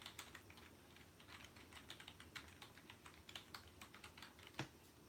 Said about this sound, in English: Gotta be able to type it.